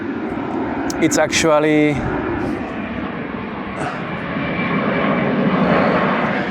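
An airplane near Madeira airport roars as a broad, steady engine rumble, loud and close, while someone talks briefly over it early on.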